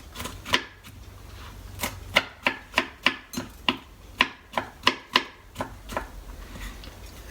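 A knife slices through the top of a vegetable for Greek stuffed peppers, zucchini and tomatoes: a quick, fairly regular series of about a dozen crisp cuts against a board, close and alone.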